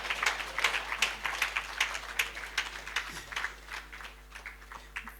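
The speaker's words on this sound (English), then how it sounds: "Give him a big round of applause." Scattered audience clapping at an engineering society presidential investiture in Nigeria, uneven bursts of hand claps rising and falling rather than a dense roar, moderately close in a hall.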